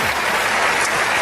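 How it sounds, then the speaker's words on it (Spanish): Church congregation applauding during a Spanish-language sermon, a dense, steady wash of clapping that fills the whole moment at close range and moderate loudness. "Alguien tiene que aplaudir más que eso"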